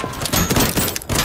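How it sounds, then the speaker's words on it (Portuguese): Rapid bursts of gunfire crackle in a shooter video game, a dense and loud run of shots with brief gaps. "É tiro! Olha lá, olha lá!"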